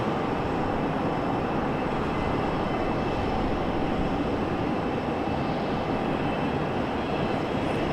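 Alaska Airlines jet moving at Raleigh-Durham International Airport, a steady broad engine roar that holds at an even, fairly loud level throughout, with no talk over it.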